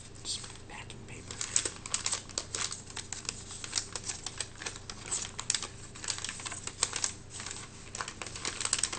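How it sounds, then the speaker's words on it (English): Packing paper is crinkled and rustled up close in a quiet room, with soft, dense crackling that comes in uneven bursts. "Just packing paper."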